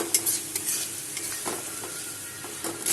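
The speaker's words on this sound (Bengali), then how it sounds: "এখন দিয়ে দিলাম আগে থেকে ভেজে রাখা 6টা পটল" Pre-fried pointed gourds stirred into a sizzling spice masala for doi potol, steady frying hiss broken by a few scraping stirs of a spoon in the pan, with no voices.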